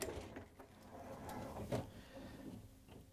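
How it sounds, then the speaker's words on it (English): A Maytag dishwasher door is pulled open, giving a soft mechanical clunk and sliding scrape in a quiet room, with a small knock near the end. "In order to get to the part, we have to open up the dishwasher door."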